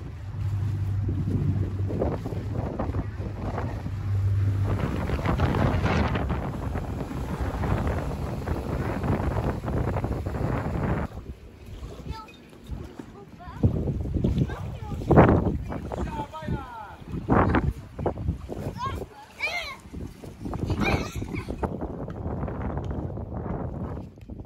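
Strong storm wind at a sailing boat's anchorage roars and buffets the microphone steadily, with people talking over the gusts throughout.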